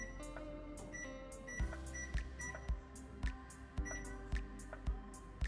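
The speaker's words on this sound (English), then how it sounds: "Alright, let's set that timer." A kitchen timer beeps as it is set for baking a loaf of vegan bread, with a steady run of short electronic beeps over a busy, humming kitchen background.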